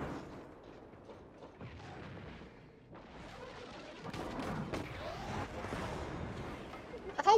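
A barrel explodes in the video game Destiny 2 during the Skydock IV master lost sector. Quiet gunfire and game noise build to a broad, booming blast around the midpoint, which rolls on into the dense action that follows.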